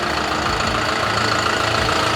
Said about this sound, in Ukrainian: Подобається мені робота двигуна, подобається мені все.